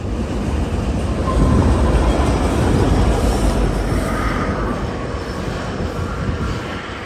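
A BNSF freight train hauled by GEVO and AC4400 locomotives rolls past nearby as a loud, steady rumble of wheels and diesel engine noise that holds for several seconds and then eases slightly.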